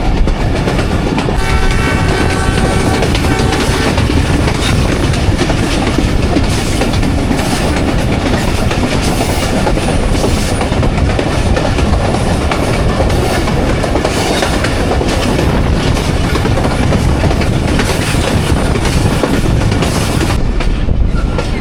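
A Jaffar Express passenger train runs between Attock and Rawalpindi, with a steady loud rumble of wheels on rails and rattling carriages throughout, faint clickety-clack and occasional higher squeals over the continuous din.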